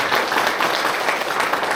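An audience at Beopjusa Buddhist temple applauds to welcome a monk, producing dense, continuous clapping that stays loud and even.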